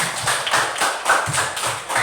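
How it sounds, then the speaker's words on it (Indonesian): A classroom of Indonesian students claps together during a science lesson, producing steady, fairly loud applause with a faint voice beneath it. "Iya, tepuk tangan"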